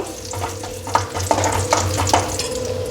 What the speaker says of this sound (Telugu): నెయ్యి హీట్ అయిన తర్వాత జీడిపప్పు పలుకులు వేసుకోవాలి జీడిపప్పు ఇలా కలర్ మారిన తర్వాత కిస్మిస్ కూడా ఫ్రై చేసుకోవాలి